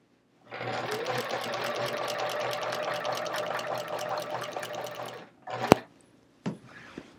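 A sewing machine free-motion quilts a chevron quilt with a rapid, even mechanical stitching chatter for about five seconds, then stops, followed by a few sharp clunks and handling noises.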